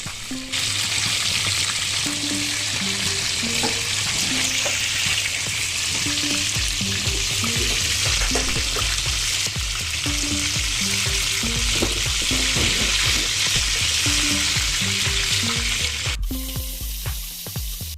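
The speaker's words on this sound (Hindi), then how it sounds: "एक साइड से हो गया है फ्राई, अब दूसरी साइड से भी हो जाएगा अच्छी भी ब्राउन कलर" Kashmiri chicken kebabs frying in a pan, a loud steady sizzle that runs nearly unbroken throughout, with faint tonal background music underneath and a brief change near the end.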